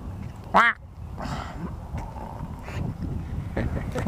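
A single loud, close duck quack rings out early, followed by softer outdoor background and wind noise with faint bird calls.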